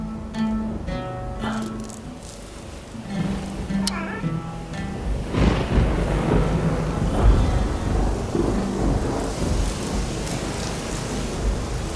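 Heavy rain pours in a dense, steady hiss that swells and holds for several seconds, with tonal music or voices sounding at the start before the downpour takes over.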